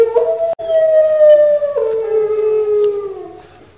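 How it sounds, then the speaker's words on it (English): A hound howls close by in one long, loud, wavering cry that drops in pitch, broken by a brief gap near the start and fading out at the end; no one speaks. "That's no ordinary dog. It's a hound."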